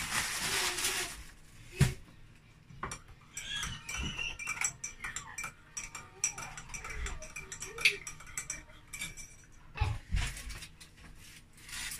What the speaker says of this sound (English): let me mix it properly